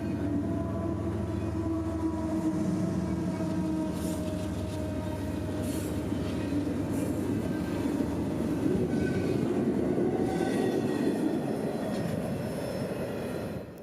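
A long priority intermodal freight train, over 7,000 feet, rolls steadily through Callahan with a continuous near rumble of wheels and cars, faint squeals and clicking over rail joints, and no voices.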